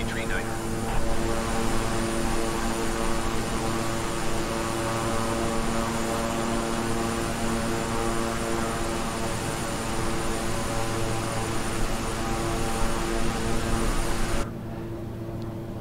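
Beechcraft 350i King Air turboprop engines in Microsoft Flight Simulator, a loud steady droning hum with tonal whine that holds constant, then drops abruptly in brightness near the end as the throttle eases back.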